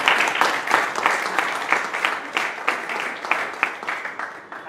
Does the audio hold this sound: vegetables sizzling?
no